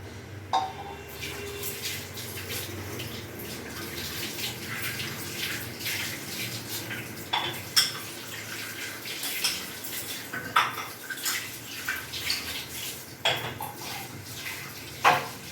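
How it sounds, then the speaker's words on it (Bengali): Dishes being washed under a running kitchen tap, with pots, plates and cutlery clattering and knocking now and then over the steady close rush of water. "কয়েকটা বাসন ছিল, ধোয়া হয়ে গেছে"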